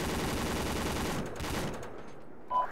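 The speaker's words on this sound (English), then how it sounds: "we're just taking a bit of enemy fire over" Sustained automatic gunfire in a military shooter video game, a steady rattling stream of shots from some distance that fades out near the end, with no voices.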